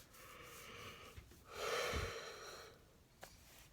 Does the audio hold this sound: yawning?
yes